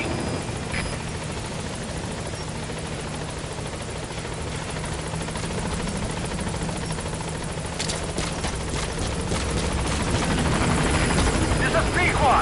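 Helicopter rotor thrumming steadily in the Metal Gear Solid V video game as it arrives at a landing zone, a continuous loud drone with in-game radio voices over it.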